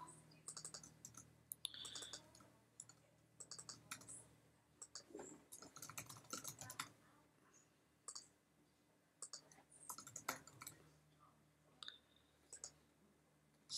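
Typing on a computer keyboard while editing in a text editor: close, quiet clusters of key clicks in irregular bursts with short pauses, with no talking.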